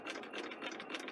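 A sewing machine stitching along a raw fabric edge gives a fast, even, rhythmic whirring clatter, close and fairly quiet, for just over a second.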